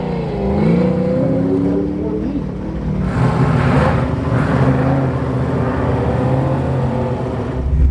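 A race car engine at the ZMax race track, with a rising, revving engine note and whirring, accompanied by voices throughout.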